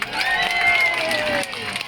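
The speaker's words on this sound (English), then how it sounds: "Thank you for cheering our gorgeous seals on" Audience at a fur seal show at Rhyl Sea Aquarium cheering and whooping as a steady, loud crowd roar with high-pitched children's voices, sustained for about two seconds.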